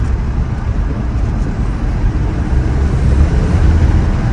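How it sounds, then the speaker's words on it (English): A 2022 Chevy Silverado pickup engine gives a loud, close, continuous low rumble that swells slightly toward the end as the gas pedal is tapped. "I can just tap the gas and I'ma hear it"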